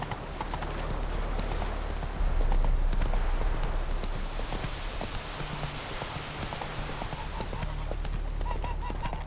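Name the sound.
horse galloping in video game The Witcher 3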